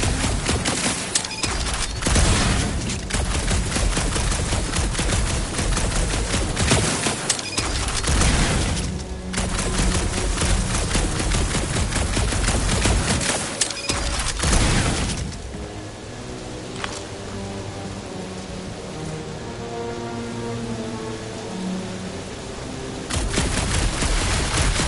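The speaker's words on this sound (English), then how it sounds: "A couple of shots to bring it down." Gunfire in Guardians of the Galaxy crackles in loud, dense bursts aimed at a gunked-up reactor. Sharp impacts follow, and the shooting thins out after about fifteen seconds into a quieter, rumbling stretch with no voices.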